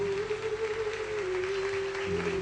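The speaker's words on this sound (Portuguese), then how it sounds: "Vamos aplaudir o nosso Deus. Pode aplaudir o Senhor." A church congregation claps continuously in a steady wash of applause during a service, with a sustained musical tone humming underneath.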